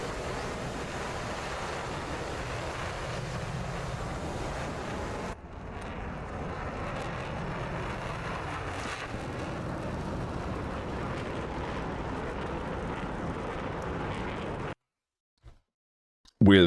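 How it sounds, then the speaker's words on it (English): Jet aircraft in an air-combat video game accelerates down the runway for takeoff, a steady loud broadband engine roar with wind-like rush that holds for about fourteen seconds, then cuts off abruptly. "Kikaku starts rolling down the runway here"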